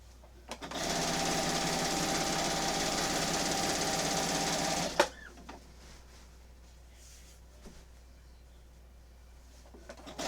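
A sewing machine runs steadily for about four seconds while stitching a seam on a queen-size quilt being bound, then stops with a clunk, leaving quiet room noise and a few faint knocks.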